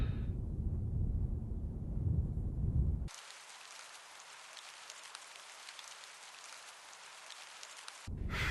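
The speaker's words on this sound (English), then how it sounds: "Why does it always rain in England?" Rain pours in the video game Her Majesty's SPIFFING, a steady, even hiss that cuts in abruptly after a low rumbling passage and runs alone for several seconds.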